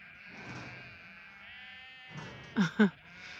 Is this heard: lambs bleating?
yes